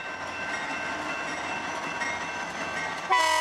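A passing train rumbles steadily at a distance, then a loud multi-tone horn blast breaks in at the very end.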